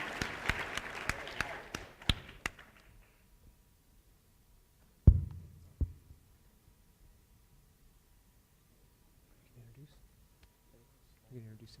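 Brief scattered applause from a presentation audience fades out within about three seconds, followed by near silence broken by a few isolated knocks and faint distant voices.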